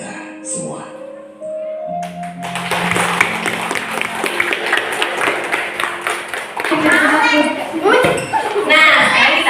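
Applause from a group in a classroom lesson, scattered clapping that builds after a few short tones and voices, with children's chatter mixed in and growing louder toward the end.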